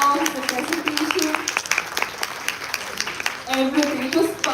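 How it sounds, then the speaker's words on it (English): Theatre audience applauding after a repertory stage play, a dense wash of clapping that runs steadily through the whole stretch with a voice talking over it. "Can we give a big round of applause for the screenplay, the direction,"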